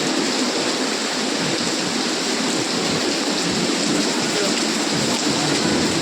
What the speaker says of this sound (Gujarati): આમ જો કેવો વરસાદ પડે છે તમે જુઓ